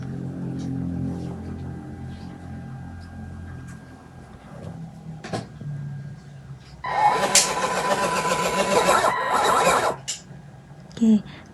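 Small motor driving a syringe plunger forward on a microcontroller project: a buzzing mechanical whir of about three seconds rises up near the end, preceded by someone talking and quieter clicks and hum.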